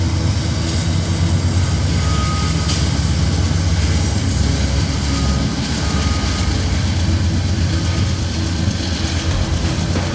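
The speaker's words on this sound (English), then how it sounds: "Here comes the train." A train rumbles past with a steady, loud, continuous roar that fills the whole stretch without letting up.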